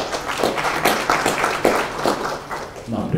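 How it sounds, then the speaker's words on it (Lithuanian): Audience applause welcoming the mayor's adviser of Mažeikiai district municipality at a smart city event, a steady wash of many hands clapping, fairly loud and close, continuing throughout with no pause. "Pasitikime plojimais."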